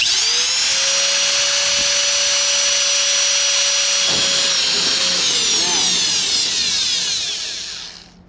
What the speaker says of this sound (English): you put the bit into the dimple and then start your drill